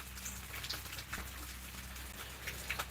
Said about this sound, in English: I'm on a covered porch, but yeah, it's raining.